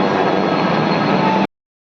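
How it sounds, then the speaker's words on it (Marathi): Mumbai local train giving a loud, steady rumbling roar of carriages on the rails, close by and continuous before cutting off abruptly to silence. "इथून लोकल ट्रेन पकडून पुढे जाऊया"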